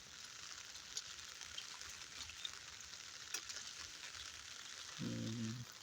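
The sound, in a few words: rain falling in Moratuwa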